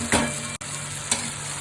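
Small fish curry, chuno macher chorchori, frying in a pan while being stirred, with a steady close sizzle and a couple of scraping strokes across a short stretch.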